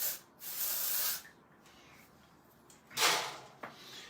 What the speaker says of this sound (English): you guessed it, guys, Undone texture spray. Just in that top section.